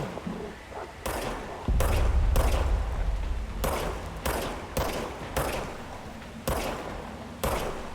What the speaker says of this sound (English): So we aim the gun and we shoot it, and it automatically regenerates ammo